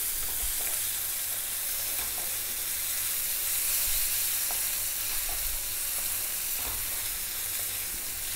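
Onion and curry leaves fry in hot oil for a fish polichattu masala, giving a steady, close, even sizzle with faint crackles that runs unbroken and alone, without any talking.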